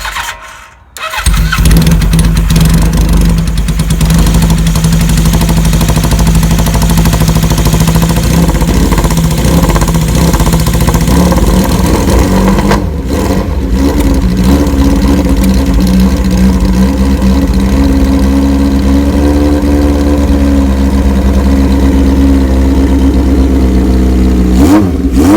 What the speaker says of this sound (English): So we have not started this motorcycle yet, but we're getting ready to start it.